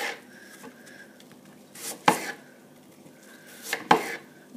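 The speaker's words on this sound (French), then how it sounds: "puis je vais les couper en fines lamelles" A knife cuts washed, peeled apples into thin slices on a board, two distinct crisp chopping strikes separated by quieter rubbing and handling noises, close and alone without talk.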